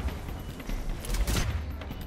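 Shotgun blasts and surrounding combat gunfire in Mass Effect 3, a dense burst of loud overlapping shots clustered in the middle, over a rumbling low background.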